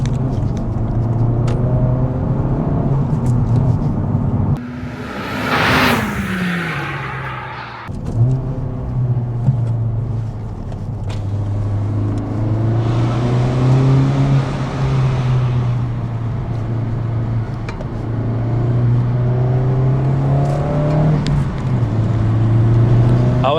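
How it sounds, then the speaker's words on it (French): A Honda Civic Type R FL5 engine drones steadily from inside the cabin, rising and falling with throttle, with a brief turbo whoosh and a shift dip partway through. "Ah ouais, j'entends le turbo maintenant."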